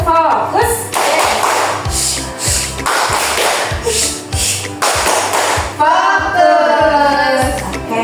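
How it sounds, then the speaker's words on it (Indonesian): Children clap a rhythmic focus pattern in a classroom, sharp bursts of claps in repeated groups, with voices chanting along between and over them. "Tepuk fokus."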